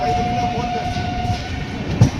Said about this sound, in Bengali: ট্রেন এখন ঢুকছে লখনৌ জাংশন